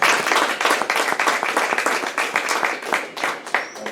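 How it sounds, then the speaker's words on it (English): Audience members at a COP28 panel session in Dubai clap for the panelists, a close, dense patter of individual claps that holds steady and then thins toward the end. "Ladies and gentlemen, please a round of applause for our panel."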